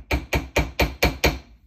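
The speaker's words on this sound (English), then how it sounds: "you can also hammer a little bit" Six sharp hammer strikes on thick jewelry wire at a bench for a single-stone ring, evenly spaced about a quarter second apart, close and loud with brief ringing decay and no talk.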